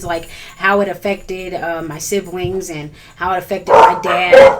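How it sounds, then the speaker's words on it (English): Dogs barking in the background, several yips and barks beneath a person speaking steadily in the foreground, the barking becoming louder toward the end. "excuse the dogs"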